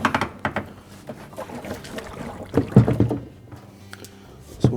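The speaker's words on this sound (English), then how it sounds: "Now next we'll put the inner spin basket back in position." Inner spin basket of a GE washer being lowered back into place during a tub seal repair, making hollow knocks and scraping thumps in a few close, uneven bursts.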